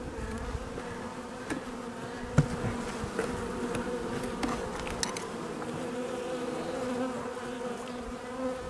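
A dense, steady hum of many honeybees buzzing close by at a hive of five frames in an apiary, with occasional faint clicks and taps over the drone.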